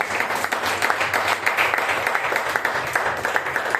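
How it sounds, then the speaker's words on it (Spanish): Congregation at a Spanish-language church Bible study breaks into loud applause, a dense, steady clapping that runs the whole way with brief peaks and no speech over it. "Démosle un fuerte aplauso al Señor"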